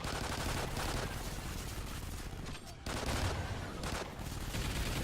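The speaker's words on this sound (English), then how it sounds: "Here the double sentry guns will help you out a lot." Twin sentry guns in the Extinction video game fire in a steady, dense automatic stream against scorpion attackers, nearly continuous and close, with one brief drop partway through.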